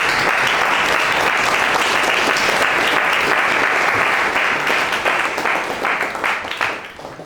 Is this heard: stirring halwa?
no